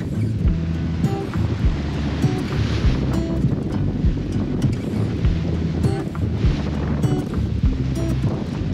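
A sailboat beating upwind at about five knots through wind and waves, with steady wind roar buffeting the microphone, water rushing and slapping the hull continuously, and occasional knocks and creaks aboard.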